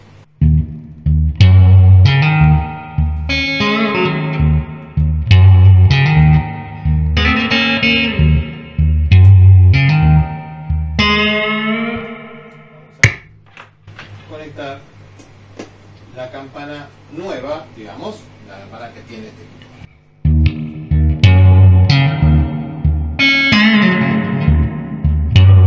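A bell chime plays through the spring reverb of a 1967 Fender Super Reverb guitar amplifier, the struck tones ringing out and decaying in lush wash, with someone talking in between.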